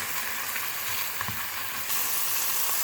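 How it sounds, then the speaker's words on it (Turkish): Minced meat frying in oil in a pan while being cooked down for a savory pastry filling, a steady, close, soft sizzle with faint stirring and no voices. "Kavurma işlemimize devam ediyoruz."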